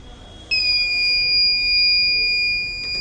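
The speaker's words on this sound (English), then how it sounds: "alcohol detected, buzzer gets on, motor gets off" An Arduino smart helmet's buzzer sounds on alcohol detection, a sudden loud, steady high-pitched electronic tone that starts abruptly and holds for over two seconds before cutting off.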